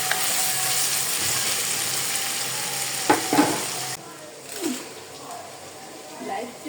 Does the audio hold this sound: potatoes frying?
yes